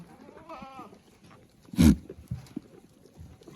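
Osmanabadi goats on a goat farm in Jintur, Parbhani district, with one loud, brief bleat standing out near the middle, a fainter wavering call before it and scattered farmyard noise around them.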